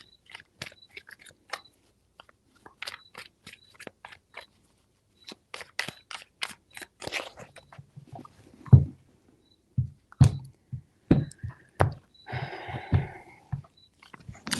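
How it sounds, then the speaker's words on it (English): Tarot cards being shuffled three times, a run of quick crisp riffling flicks and soft taps, then closer slapping and rustling bursts as the deck is bridged and squared, fairly quiet with no voices. "Three shuffles."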